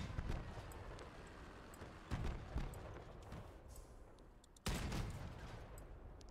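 Rapid gunfire from a tank in the vehicle combat game Crossout, with dense bursts of shots that stop and start three times. The firing is fairly faint, with no voices over it.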